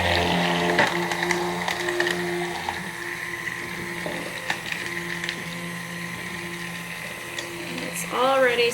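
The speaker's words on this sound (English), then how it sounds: "immersion blender in, give it a little swirl" An immersion blender whirs in soap batter in a home kitchen, a steady mechanical drone with clicks and knocks as it swirls in the pan, then a brief rising whine near the end.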